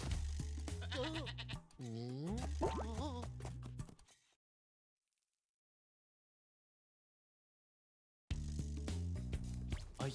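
Goats in Spyro 2: Ripto's Rage give several wavering bleats close up over background game sounds, then a stretch of total silence before the game sounds return.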